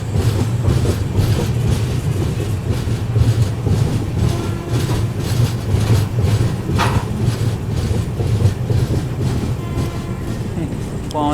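The Sanghamitra SF Express superfast train rushes past on wet rails after rain, a loud steady roar with rhythmic clickety-clack of wheels over track joints throughout, heard close by.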